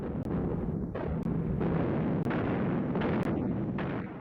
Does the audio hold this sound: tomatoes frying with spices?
no